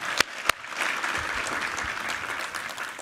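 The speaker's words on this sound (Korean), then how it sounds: "우리 하나님께 감사와 영광의 박수 올려드리겠습니다." A church congregation at a Sunday service applauds, two sharp close claps at the start followed by a dense, steady round of clapping.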